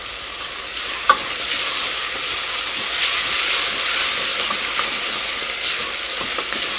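Onions and curry leaves sauté in a pan for a potato curry, with a steady, bright sizzling hiss and soft stirring scrapes, plus a small knock near the start, close and continuous with no talking.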